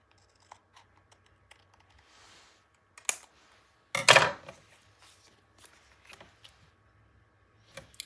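Paper being trimmed for a 9 x 9 scrapbook album page: a few sparse snips and rustles with one louder cutting burst in the middle, close and quiet in a still room.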